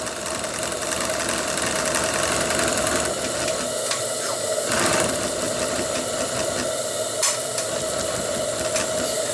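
The live steam engine of a model tug, the Abeille 13, running slowly at low pressure with the bypass open, giving a steady mechanical chuffing and knocking hum, close and continuous with no talk.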